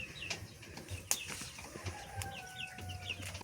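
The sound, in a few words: chicken clucking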